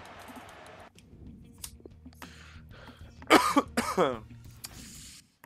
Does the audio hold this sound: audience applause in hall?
no